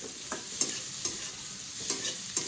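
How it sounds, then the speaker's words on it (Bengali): Sliced onions frying lightly in a pan with a steady soft sizzle, punctuated by repeated scraping stirs of a spatula at a regular pace, close up. "এখন ভাজবো বেশি না হালকা করে"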